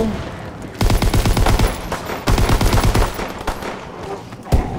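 Rapid automatic gunfire in Call of Duty: World War II Zombies, two loud sustained bursts of repeated shots with a brief pause between them and a single sharp bang near the end.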